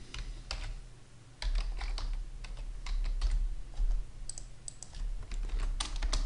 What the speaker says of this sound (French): Je rentre mon mail ainsi que mon mot de passe.